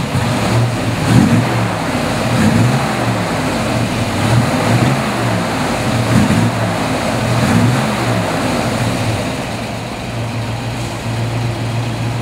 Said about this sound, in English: I hope you can hear like that solid lifter camshaft clacking away under the hood.